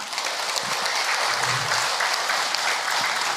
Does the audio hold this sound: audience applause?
yes